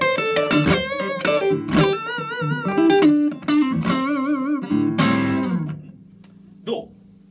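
Electric guitar runs through a Guyatone ODu1 overdrive pedal, played in loose phrases of sustained, driven chords and single notes, loud and close, ending with a final strum and a short decay.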